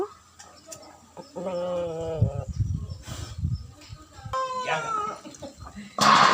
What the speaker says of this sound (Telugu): ఇదిగో ఇదో పుంజు